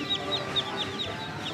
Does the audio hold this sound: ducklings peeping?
yes